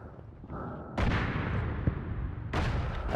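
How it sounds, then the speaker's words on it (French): A grenade blast in the WWI shooter Verdun: a sharp, loud explosion follows a muffled rumble of battle, then a second booming burst near the end, with no voices. "Allez, on tente la grenade là."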